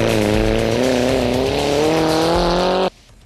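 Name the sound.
Skoda Octavia 4x4 rally car driving at speed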